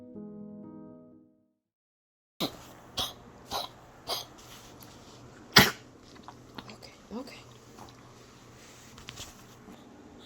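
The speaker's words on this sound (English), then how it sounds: "he started coughing, like this really deep, wet, hacking kind of cough" A dog with heart failure gives several deep, sharp, wet hacking coughs in irregular bursts after a short silence, with a brief murmur of voice at the start.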